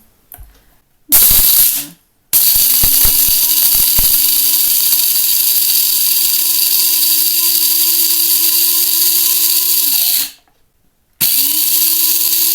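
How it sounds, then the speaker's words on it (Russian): A Bosch TSM6A013B electric coffee grinder, a 2021 model, grinds coffee beans with a loud, steady motor whine. It starts with a short burst, runs continuously for several seconds, cuts out briefly, then starts again. "Кофемолка работает не очень шумно."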